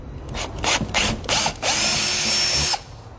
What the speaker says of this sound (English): drill out our holes to the final size.